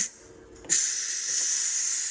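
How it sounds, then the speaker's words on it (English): An Instant Pot vents steam after cooking tamales: a faint hiss builds into a loud, steady, high rushing release that continues without a break. "gonna let the steam out, then we'll get them out."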